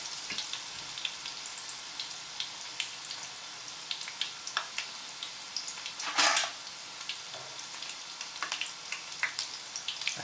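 Stuffed flowers frying in a small pan of oil give off a continuous crackling sizzle with frequent sharp pops and one louder spatter burst, close and clear with no talk.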